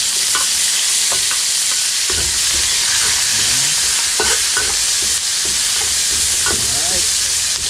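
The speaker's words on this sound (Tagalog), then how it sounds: "Lagyan na natin yung bawang." Garlic sautéing in a hot pan, a steady loud broadband sizzle running throughout, with scattered clinks and scrapes of a utensil stirring against the pan.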